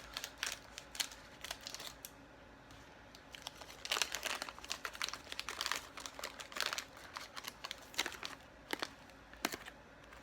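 Crinkly Italian snack package being cut and handled, giving quiet, irregular crackles and rustles close up.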